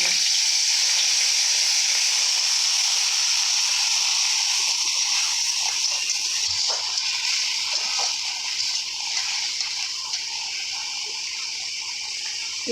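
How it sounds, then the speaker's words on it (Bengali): Onion paste fries in a pan for a Bengali yogurt fish curry, a steady bright hiss and sizzle that holds loud and even throughout, with soft scattered pops and no talking. "পেঁয়াজটা একটু ভাজা ভাজা হচ্ছে,"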